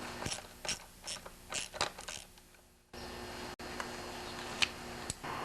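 Tightening a Homelite grass trimmer's shaft assembly gives a series of close, quiet ratcheting clicks and mechanical ticks in uneven bursts, then a low steady hum with a few scattered taps.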